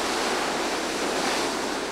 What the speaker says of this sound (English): here at the wall, one of the protective walls, the water's coming crash right up there